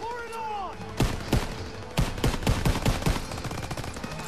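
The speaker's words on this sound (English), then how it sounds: "That would be great, but I'm shooting at these guys." Rapid gunfire in a Call of Duty WWII sniper mission during a city liberation battle, with a burst of sharp shots at a fairly steady rhythm over a busy war-zone din, after a rising whistling sweep at the start.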